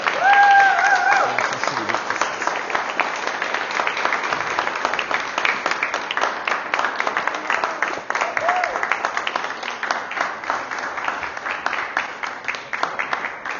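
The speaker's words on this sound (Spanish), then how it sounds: "Una sus palmas, por favor, y denle un aplauso a Él." A church congregation claps in sustained applause, a dense crowd of hands ringing steadily and fairly loud for the whole stretch, with voices faintly mixed underneath.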